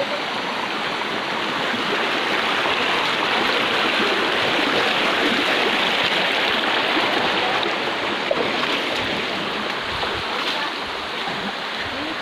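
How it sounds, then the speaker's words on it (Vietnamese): A mountain stream rushes steadily over rocks, a dense and continuous close-up wash of flowing water with no break or voices. "Cái con suối này khá là đẹp."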